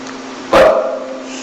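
A dog barks once at night, a single sharp close bark over a steady low hum, fading quickly.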